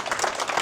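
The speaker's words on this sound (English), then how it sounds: "a round of applause for our panelists" An audience at a housing and real estate panel event claps for the panelists in a dense, steady burst of applause.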